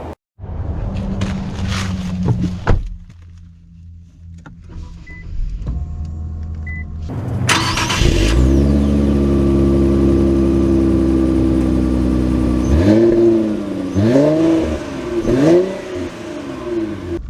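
A 2023 Infiniti Q50 Red Sport 400 starts up after some quiet cabin clicks, then its engine settles into a steady idle before rising through several sharp revs near the end, loud and close with no talking.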